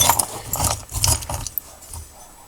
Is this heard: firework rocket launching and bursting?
no